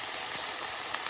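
Onion and greens fry together in a pan with a steady, dense hiss, close and even throughout, with no voices over it.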